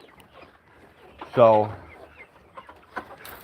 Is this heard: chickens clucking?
yes